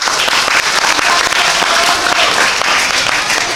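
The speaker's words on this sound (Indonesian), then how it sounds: "tepuk tangan dulu untuk kita semua" Dense, loud applause from a school audience at a waste-reduction awareness session, a steady wash of many hands clapping together for several seconds without pause.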